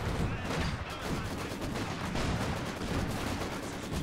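Panzerfaust and Raketenwerfer anti-tank fire from Company of Heroes 2, heard as a dense, continuous barrage of shots and blasts that holds at steady loudness for the whole stretch, with no one talking.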